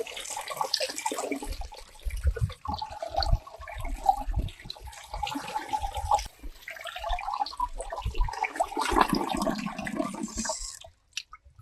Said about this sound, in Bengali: এই দেখো জল ঝরাতে দিয়েছে আমাদের বৌদি